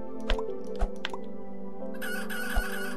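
Chickens in the video game Planet Centauri cluck in a few short, sharp bursts over steady background game music, with no speech.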